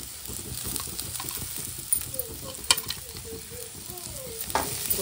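Grated coconut is tipped into a frying pan and stirred, producing close sizzling and frying with scraping stir strokes and light patter, a few sharper clinks scattered through, and no talking.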